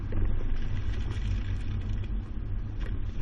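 A 2020 Jeep carrying a Kuat NV 2.0 bike rack swings through a slalom course, its engine and road noise a steady low rumble heard from inside, with no voices.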